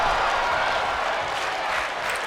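Arena crowd noise from a WWE 2K tag team wrestling match, a steady loud roar of cheering that holds throughout without a break.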